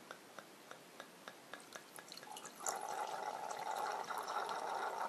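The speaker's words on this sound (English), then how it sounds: "You can hear the wine gurgling" Wine pours through a VinLuxe aerator into a glass, starting as a run of soft rhythmic drips and then swelling into a continuous bubbling gurgle; close and quiet, with no speech.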